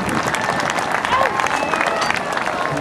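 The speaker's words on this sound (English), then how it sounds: "How about a big round of applause for the job that he's just done?" An outdoor crowd at the 2010 Jones Beach Airshow applauds loudly and continuously after a 106th Rescue Wing search-and-rescue demonstration, with a spread-out wash of clapping and some voices mixed in.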